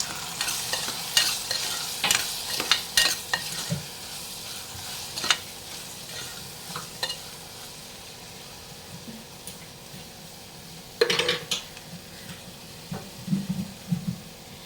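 Salt stirred into a tomato curry simmering in a pan, a soft low sizzle under intermittent scraping spoon strokes and clinks against the pan, close and fairly quiet, without speech.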